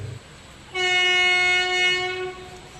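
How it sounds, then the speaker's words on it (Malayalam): Passenger train departing Karakkad railway station in Kerala, a loud sustained horn blast sounding near for about a second and a half over low rumbling, with no voices. "നമ്മുടെ ട്രെയിൻ എങ്ങനെ ഇതാപ്പം കാരക്കാട് റെയിൽവേ സ്റ്റേഷനിൽ നിന്ന് വീണ്ടും പുറപ്പെട്ടിരിക്കുകയാണ്"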